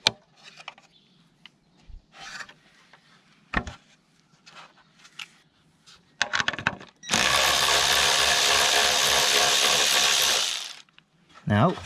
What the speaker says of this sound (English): there's also a clip here just to pop off out of the way with a flat blade screwdriver